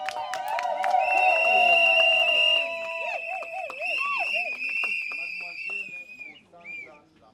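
Guests at a civil wedding ceremony cheer, whistle and shout in a loud, lively burst with piercing whistles and whoops, easing off toward the end.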